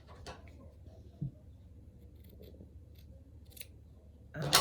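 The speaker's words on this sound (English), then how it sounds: "I'm gonna have to give that a little snip" A single quick snip of scissors cutting thread while sewing a fabric needle book, a brief sharp click over quiet room background, followed near the end by a rustle of handling.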